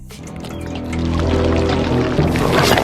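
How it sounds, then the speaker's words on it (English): A cartoon hose gushes thick creamed corn into Willie's shack, a loud, swelling pouring rush that builds over a few seconds. "Bart rigs a hose to fill Willie's shack with creamed corn, completely destroying it."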